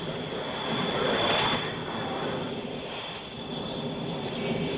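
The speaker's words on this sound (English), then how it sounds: "We hear the whirring of the airplane." An airplane over the recovery ship Hornet after the Apollo splashdown whirs in a loud, steady wash of broadband noise with a faint high whine, swelling briefly and then holding, with no talk.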